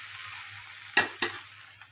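Potatoes being stirred into masala in a pan, two quick close scraping strokes of a spatula over a faint sizzle and low hum, no voices.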